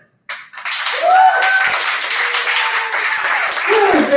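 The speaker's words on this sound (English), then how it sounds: "Please give a huge round of applause to Aaron" After a brief silence, applause bursts out at a poetry open mic for the next poet and continues strongly, with whoops and cheering voices rising over the clapping.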